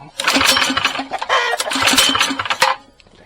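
A modified Kohler KT196 engine, just off a carburetor clean and given a shot of starting fluid, cranks and briefly fires in a short, close, loud burst of rough chugging pulses for a few seconds before dying away.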